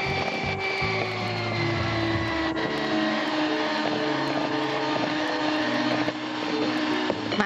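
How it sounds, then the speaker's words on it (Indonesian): An electric hand mixer runs steadily through cake batter flavored with vanilla and sweetened condensed milk in a TV cooking demonstration kitchen, a continuous whirring motor drone with shifting tone, no talking. "Matikan mixer."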